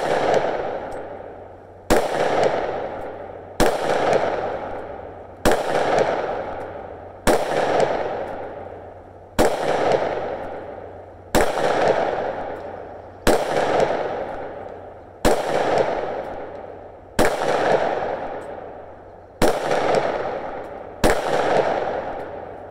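Glock handgun fitted with a Bear Creek Arsenal conversion barrel, firing twelve loud, sharp shots outdoors, evenly spaced about two seconds apart, each followed by a long decaying echo.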